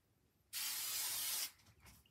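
A single continuous burst of hairspray sprayed onto hair at the crown for lift, a close, loud aerosol hiss lasting about a second before cutting off into quiet room tone.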